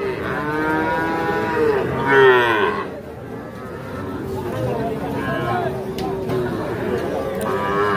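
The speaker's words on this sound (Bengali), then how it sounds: "ষাঁড় বাচ্চা, দেশাল জাতের" Cattle moo loudly and repeatedly at Ambari livestock haat, where young desi-breed bull calves and heifer calves are sold, long drawn-out lowing close by over a background of crowd chatter.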